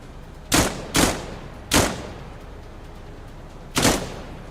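Four quick, loud gunshot bursts ring out from a rifle in a military shooting video game, each cluster fired so rapidly it sounds like a single shot, with short gaps between them and no talking.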